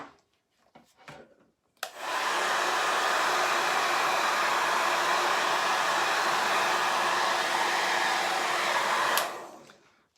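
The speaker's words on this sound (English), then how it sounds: "I'm gonna cheat with a little blow dryer here" A loud blow dryer drying a chalk craft project switches on after a couple of seconds of faint rustling, roars steadily for about seven seconds, then cuts off.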